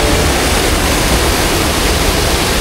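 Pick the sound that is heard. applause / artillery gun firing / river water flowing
river water flowing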